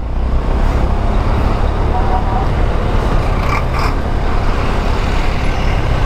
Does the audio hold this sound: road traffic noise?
yes